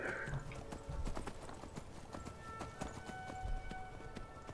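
Horse hooves clip-clop steadily in Skyrim, a quick regular trotting rhythm moving along under a faint game ambience, with a brief whinny-like sound near the start.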